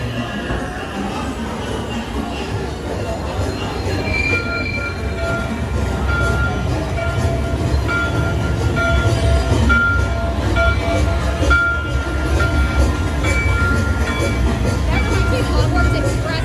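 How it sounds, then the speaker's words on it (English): A theme park train at Hollywood Studios rolls in with a rumbling, clattering rail noise and faint wheel squeals that build gradually, while people talk nearby over the sound. "Here's our train."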